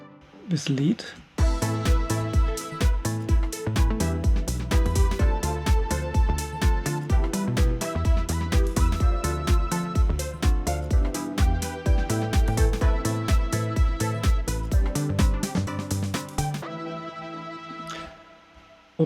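Synthesizer lead line playing over a busy arpeggio pattern with steady rhythmic chords, loud and continuous for about fifteen seconds before the pattern drops out and a brief tail remains.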